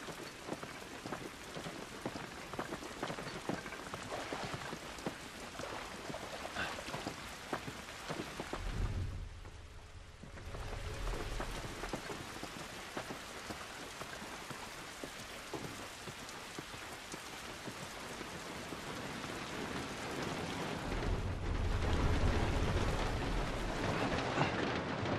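Heavy rain pours outdoors in The Last of Us game world, a continuous wide hiss of drops on surfaces with a couple of low rumbling swells, no voices.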